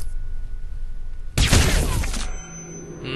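A sudden loud burst of gunfire in Hitman: Absolution erupts after a low hum, then fades into a steady electronic drone.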